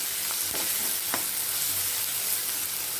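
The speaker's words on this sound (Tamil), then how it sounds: "அதனால் பல்லாரி வெங்காயத்துக்கு தேவையான 1/4 டீஸ்பூன் உப்பு மட்டும் சேர்த்து வதக்கிக்கலாம்." Onions sautéing in a pan with a little salt, a loud and steady close sizzle broken by a few quick scraping stirs, with no voices.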